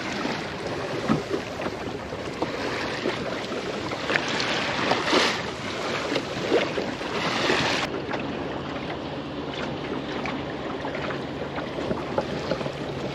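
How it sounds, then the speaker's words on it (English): A steady engine rumble of a mackerel fishing trip boat passing out on the sea, mixed with wind and wash of water, continuous and fairly loud throughout. "I think that's one of the mackerel trip fishing boats that you can go on."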